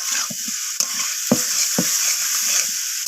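Jackfruit pieces being stir-fried with potatoes and spices in a pan, a steady bright sizzle broken by a few sharp stirring scrapes and knocks of the spatula, close and continuous with no talking.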